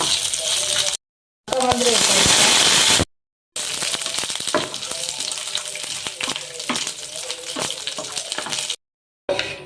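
Coconut pieces and nuts frying in hot ghee for pachari payasam, with a loud bubbling sizzle and scattered stirring clatter, broken by brief silent gaps.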